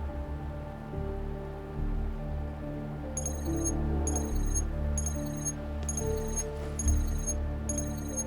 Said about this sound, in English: It's the real Retroact rain.